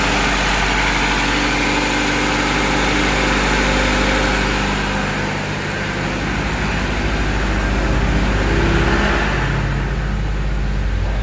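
A Toyota Great Corolla engine idles high at about 1200 RPM with its fan spinning, a loud, close, steady hum that holds throughout with a slight dip midway.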